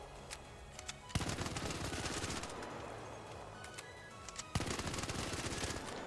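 Rapid automatic weapon fire in the video game Arc Raiders, two long sustained bursts of fast, dense shots, loud and close, separated by a short pause with a few scattered single shots, no talking.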